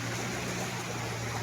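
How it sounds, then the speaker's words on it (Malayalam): Strong floodwater from a swollen river surges into and through a flooded house during heavy rain, a steady, dense rushing wash with a low hum beneath it, continuous and close. "അത്രയും ശക്തമായ ഒഴുക്ക്."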